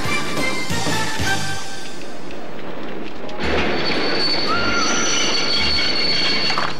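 Cartoon Russian train running on rails, loud metallic wheel squeal and screeching with rhythmic low clattering thumps of wheels over rail joints, continuous and close.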